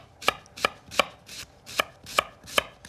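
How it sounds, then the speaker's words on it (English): A knife slices through shallots on a cutting board with seven crisp, evenly spaced strokes, close and clear with no talking over them. "we're just gonna slice down some shallots"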